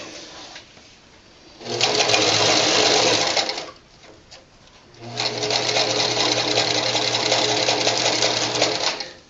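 An upholstery sewing machine stitches through vinyl in two loud, steady runs of rapid whirring, separated by a short quiet pause with faint handling noise.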